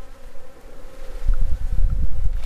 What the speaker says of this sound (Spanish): La verdad que se oyen bastante zumbidos, no sé si serán moscas, serán avispas, abejas.